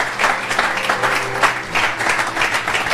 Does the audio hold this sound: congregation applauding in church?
yes